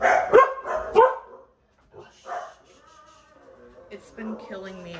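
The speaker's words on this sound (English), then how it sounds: "Sorry about the dogs, guys." Dogs bark in loud, sharp bursts close by in a home kitchen, two quick barks up front, then quieter whimpers and yips while someone talks.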